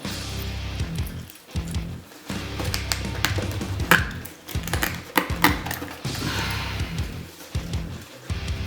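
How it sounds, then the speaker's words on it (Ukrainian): A Smith & Wesson SW990TA knife blade cuts through a short piece of steel wire, giving a series of sharp clicking taps and scrapes in irregular bursts, close and fairly loud, with no talk. "то теж доволі легко можна різати. Кусок дроту"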